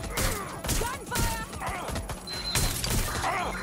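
Gunfire in the video game Watch Dogs: Legion: a burst of several sharp shots with impacts and crashes in a busy, dense game mix.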